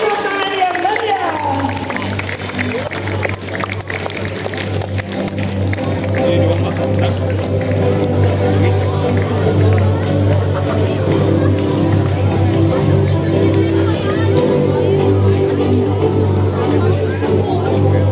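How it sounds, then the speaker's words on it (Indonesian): A school audience at a literature gathering during a diversity camp claps and cheers to welcome guests, a long steady wash of applause and crowd noise with talk mixed in. "Beri tepuk tangan yang meriah."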